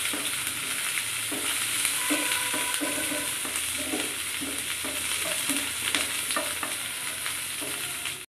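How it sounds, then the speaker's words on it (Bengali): Onion fries in a pan and is turned repeatedly with a spatula, a continuous hissing sizzle broken by soft rhythmic scrapes and clinks, close up, with no talking. "চলো পেঁয়াজটা দিয়ে দেবো। নেড়ে ছেড়ে বাদামি বাদামি করে ভেজে নেবো।"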